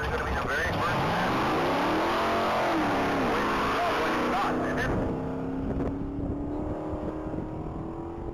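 A 1982 Pontiac Firebird SD at a top-speed mile race roars as it accelerates, its engine pitch climbing steadily, then fading as the car pulls away into the distance.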